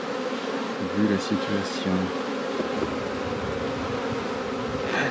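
Honeybees buzz in a continuous, close drone, with a brief spoken phrase over the buzzing near the start.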